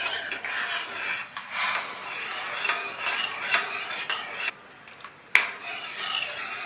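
A spoon scrapes and rasps through semolina and jaggery syrup in a pan. The strokes repeat steadily up close, then pause briefly before one sharp knock.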